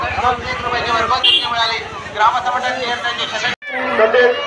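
Dense crowd chatter fills a busy village fair where a meal is being served, many voices overlapping in a steady babble close around, with a brief drop to near silence before the hubbub resumes.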